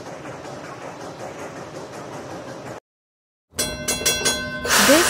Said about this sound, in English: They have a big chimney on top that releases steam, making a chugga-chugga sound.